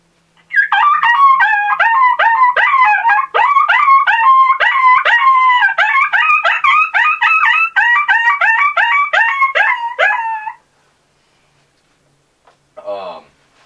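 A Deadly Double distressed diaphragm call blown to imitate a pup distress call gives loud, raspy, growly yelping whines in a fast continuous run of about ten seconds, very close, then a short faint burst after a pause.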